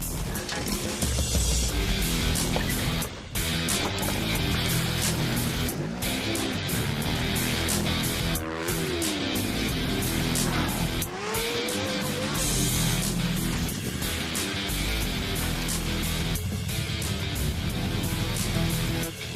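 Off-road race trucks at a 2016 TORC race in Charlotte, North Carolina, roar loudly at a race start: a dense, continuous engine rumble with rising and falling revs from several vehicles.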